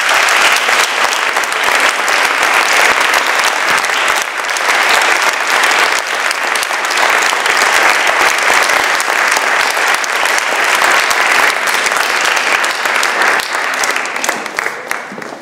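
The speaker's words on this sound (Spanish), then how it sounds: "Un aplauso." Sustained applause from an audience at a 2023 Pasos auction in Sahagún, dense steady clapping for about fifteen seconds that fades slightly at the end, with no talk over it.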